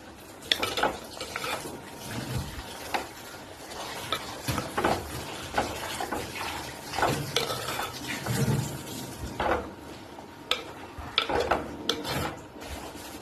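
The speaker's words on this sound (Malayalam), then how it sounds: "നമുക്കിനി ഇതൊന്ന് ഇളക്കി യോജിപ്പിക്കാം." Spinach being stirred into cooked dal in a pot: repeated scraping and rubbing strokes of a spoon against the vessel, close and steady for the whole stretch, with no talking.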